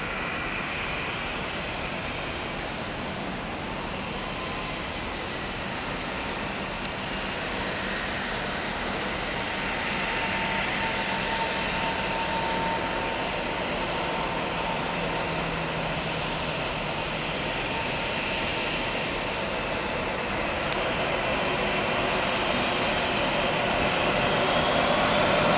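A jet airliner at Salvador airport gives a sustained broadband engine roar that holds steady and slowly grows louder across the whole stretch, with no talk.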